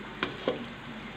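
Tomatoes for a pasta sauce hit a hot pan and fry with a steady, low sizzling hiss, marked by two short, sharp crackles near the start, then settling into a quiet, even sizzle with no talking.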